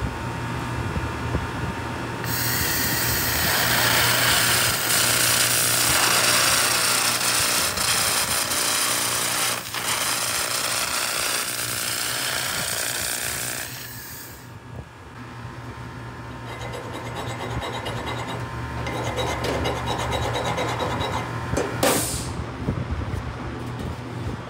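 A 2000 W continuous-wave laser cleaner sweeps a 100 mm scan width across steel at 30 Hz, giving a loud, steady broadband hiss and whine over a constant mechanical fan drone, with a brief dip mid-way before resuming.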